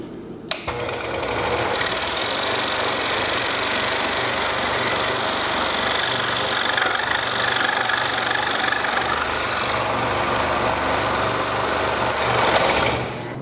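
Scroll saw cutting the outline of a carved wooden Shalom star, a steady loud buzzing reciprocation starting abruptly and running continuously, close and alone until it stops near the end.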